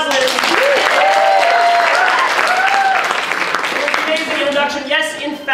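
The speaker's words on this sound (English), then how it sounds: "Let's give a quick round of applause for our director" Theatre audience at a live improvised show applauding their director, a sustained burst of loud clapping with cheers and whoops rising over it before trailing off.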